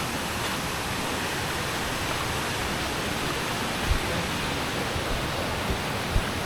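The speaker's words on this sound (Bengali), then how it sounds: "এই যে এটা হচ্ছে চিত্রধারা ওয়াটারফলস।" Chitradhara waterfall pours down from above with a dense, steady roaring rush of water, loud and continuous, with a few faint knocks underneath.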